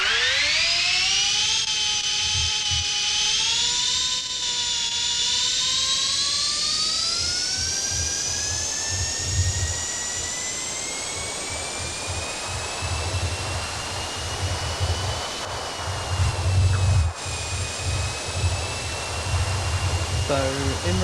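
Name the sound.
loud race car engine in PERRINN 424 simulator video game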